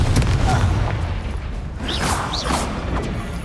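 A Confringo fire spell blasts in the Hogwarts Legacy video game, a loud low booming explosion rolling over dense combat noise, with a couple of brief whooshing spell swishes riding on top.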